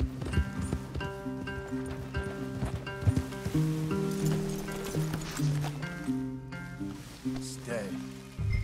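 In the video game Red Dead Redemption 2, horse hooves clip-clop steadily close by beneath a layered musical score, with light rustling and a few spoken voices mixed in.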